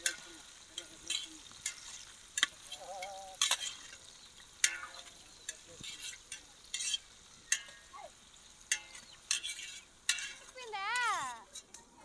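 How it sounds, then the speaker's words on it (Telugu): Chopped onions added to curry leaves in a pan for an egg and potato curry, with soft sizzling under repeated clinks and scrapes of a spoon against metal, and faint chirping in the background. "తరిగి పెట్టుకున్న ఎర్రగడ్డలు అయితే వేస్తున్నా"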